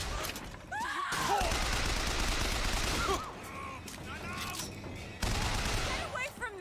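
Gunfire erupts in a BioShock Infinite firefight, with dense bursts of shots under screaming and shouting voices, broken by short lulls before each new volley.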